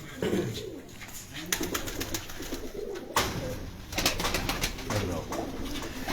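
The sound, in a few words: pigeons cooing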